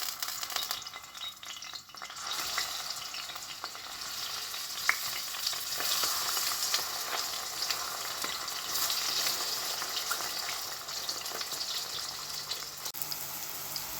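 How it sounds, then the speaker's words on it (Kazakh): Eggplant fries in hot oil with a steady, dense sizzle and crackle that runs unbroken throughout, with no voices. "Майымыз қызып тұр, енді баклажан қуырып аламыз"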